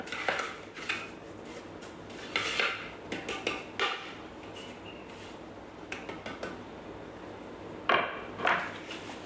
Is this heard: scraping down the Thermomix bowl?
yes